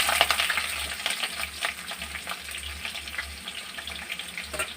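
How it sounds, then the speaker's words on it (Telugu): Onions frying in oil with star anise for egg biryani, a steady crackling sizzle with bursts of stirring, close and moderately loud, no voices. "ఇవి 2 స్టార్ ఫ్లవర్స్ వేసిన తర్వాత ఫస్ట్ ఉల్లిపాయలు వేద్దాం."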